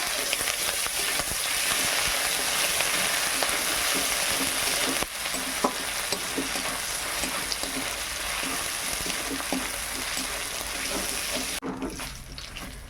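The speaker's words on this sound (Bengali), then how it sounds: "আদা রসুন ভাজা হয়ে গেছে" Ginger-garlic paste fries in oil after onions in a pan, a loud, steady crackling sizzle with occasional stirring clatter that cuts off sharply near the end.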